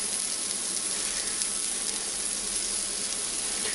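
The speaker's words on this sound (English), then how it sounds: "Now you're hearing the sizzle because of the butter" Butter sizzles in a pan on the stovetop while biscuits cook, a steady close hiss with no break.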